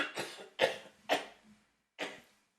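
Several close, sharp coughs in quick succession, then a pause and one more cough, from a person during a casual gaming chat, loud and near with no speech over them.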